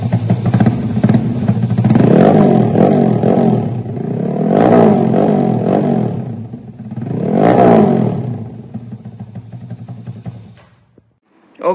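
A Lagenda 110 motorcycle with a 169cc engine revs up in repeated surges, each rising roar falling back to a rumbling idle, loud and close, before cutting off near the end.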